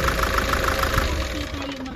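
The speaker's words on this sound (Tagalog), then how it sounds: "pag pinapatay mo yung makina, nanginginig siya" Diesel engine of a Nissan Urvan Estate ZD30 E25 with a runaway-diesel fault, knocking and shuddering roughly as it is switched off, a close, continuous rattling vibration fading over a couple of seconds.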